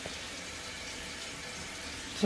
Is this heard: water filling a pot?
yes